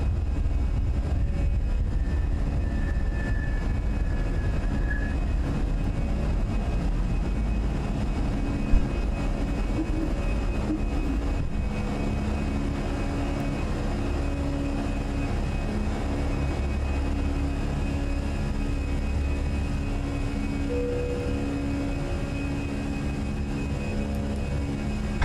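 Fenix Airbus A320 jet engines climbing after takeoff in a flight simulator, a steady droning roar holding constant throughout, loud and continuous with no voices.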